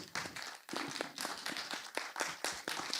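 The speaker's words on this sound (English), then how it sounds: "A round of applause for Suki Phillip, please." Audience applause for panel members at a summit in India, a dense patter of many hands clapping at close range that carries steadily through the whole stretch.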